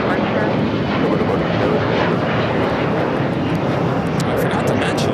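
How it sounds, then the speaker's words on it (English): An Embraer E-Jet airliner rolls down runway 25 right at LAX for takeoff, its engines making a steady, loud broadband roar that holds without letup, with a voice talking over it. "E-Jet's now taking off on runway 25 right"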